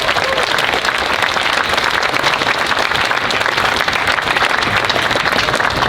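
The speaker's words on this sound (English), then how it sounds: "I want to give a big round of applause to ONR." A loud, dense round of applause fills the hall at the RoboSub 2026 award ceremony, with many hands clapping in a steady, unbroken roar from start to finish.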